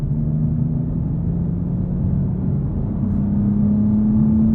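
Steady, low engine drone from a 2023 BMW M2 under full throttle in fourth gear from 3,000 RPM, heard from inside the car as a continuous rumbling hum that rises slowly in pitch.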